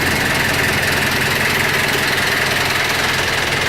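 A homemade Mini Mack big rig truck engine runs continuously, loud and close, with a steady rough idling rumble and a knocking mechanical texture, no voices over it.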